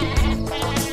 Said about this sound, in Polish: Gdzie ty idziesz, głupia owco?